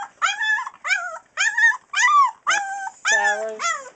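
Newfoundland puppies almost three weeks old whimper and yip in a series of about seven close, high, wavering cries in quick succession while playing.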